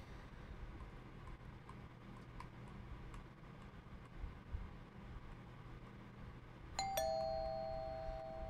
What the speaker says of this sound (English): My God, the doorbell's starting to scare me too.